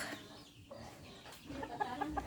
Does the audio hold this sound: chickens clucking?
yes